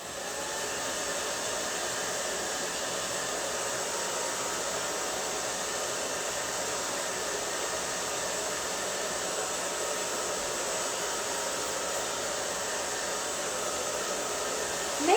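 A hair dryer blow-drying a hairpiece roars steadily and close for the whole stretch, an even unbroken whoosh with no talk.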